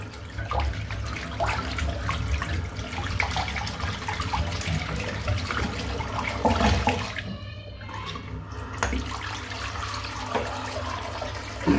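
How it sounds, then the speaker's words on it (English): Running tap water rinsing shaving soap out of a shaving brush at a bathroom sink, a steady close splashing flow with brief interruptions. "I'm now going to rinse the soap out."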